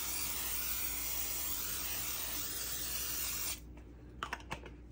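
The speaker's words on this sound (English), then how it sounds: "I'm gonna make sure na nag-spray tayo dito kasi as usual" Cooking spray hisses in a steady, close burst onto a baking tray for bread rolls, lasting about three and a half seconds before cutting off, followed by a few faint clicks and taps.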